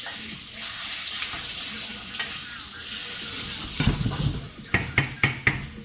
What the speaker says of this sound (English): moment for stirring